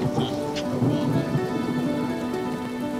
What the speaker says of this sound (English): I just saw lightning, and there's your thunder.